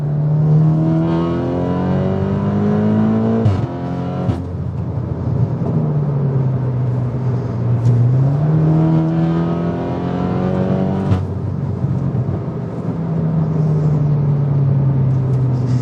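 A stage 3 tuned Audi S3 8V facelift engine revs up and down through gears with a deep rumble, punctuated by a few sharp exhaust pops and bangs.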